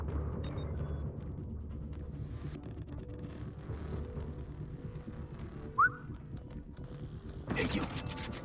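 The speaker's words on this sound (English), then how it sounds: "Did you just whistle at me?" A player gives one short, rising whistle partway through a co-op match of Splinter Cell: Blacklist. It stands out briefly over steady game noise and low background rumble.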